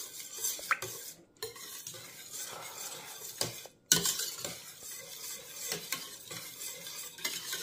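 A thick maja blanca mixture is stirred in a pot, giving a steady, close scraping and swishing of a utensil against metal with a faint sizzle underneath and brief pauses.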